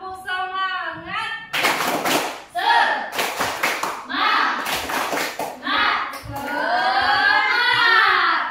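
A classroom group of children claps together in a counted clap chant, several bursts of rhythmic hand claps mixed with children's voices chanting and shouting.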